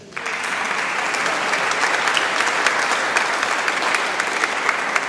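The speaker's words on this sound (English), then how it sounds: "Do please give her a big round of applause" Sustained applause from a sizeable crowd at a recital in Malmesbury Abbey, dense clapping that starts abruptly and holds steady throughout.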